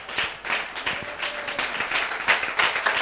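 A church congregation applauding after a scripture reading, giving a steady burst of clapping from many hands in a reverberant room. The clapping lasts about three seconds and carries no clear speech.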